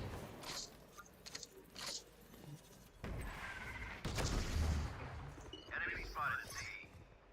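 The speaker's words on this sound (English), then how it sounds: "Placing swarm grenade. Swarm grenade out." Swarm grenades pop and crackle in Valorant, several short bursts scattered through the clip among gunfire-like thuds and game noise, with voices talking in the background.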